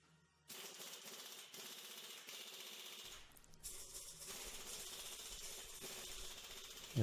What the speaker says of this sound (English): I'm going to use a 1/2-inch impact here.